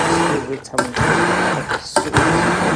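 A kitchen blender grinds fresh tomatoes and onions for a small sauce, its loud whirring motor running up close with a couple of brief dips and restarts.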